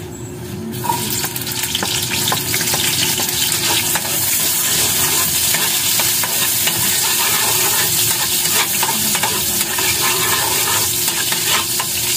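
Onion and garlic sautéing in a pan give a loud, steady sizzle close up, broken by occasional scrapes and clinks of stirring, with no voices.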